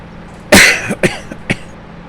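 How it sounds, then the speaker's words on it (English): A person coughs in several sharp bursts: one loud, harsh cough followed by three smaller coughs spaced roughly half a second apart, close to the listener. "Stop coughing"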